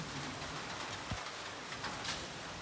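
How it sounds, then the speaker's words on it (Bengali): Rain falling steadily as a soft, even patter, fairly faint and continuous, with no voices. "দেখো বৃষ্টি শুরু হয়ে গেল"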